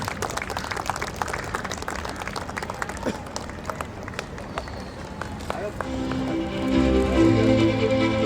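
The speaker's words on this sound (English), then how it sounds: "A big round of applause for our chief guest for today, Sulakshana Naik." A crowd at a girls' under-16 cricket tournament final applauds the chief guest with scattered, moderately loud clapping, and steady music rises underneath toward the end.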